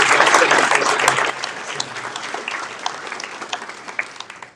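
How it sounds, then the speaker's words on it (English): Audience at the El Centro State of the City Address applauds, a loud burst of clapping that gradually thins and fades into scattered claps. "Round of applause for President Dr. Johnson and President"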